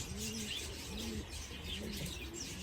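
Pigeons being banded for an Olympic racing season coo in low, repeated rolling phrases close by, with a faint high hiss in the background.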